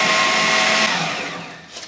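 A food processor whizzes a veggie nut burger mixture with garlic, a loud, close motor whir with a grinding edge that runs steadily and then winds down at the end.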